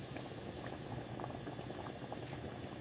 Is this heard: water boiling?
yes